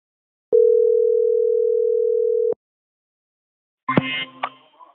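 A steady electronic dial tone holds for about two seconds, then stops; after a pause, a short burst of clicks and a phone line connecting follows.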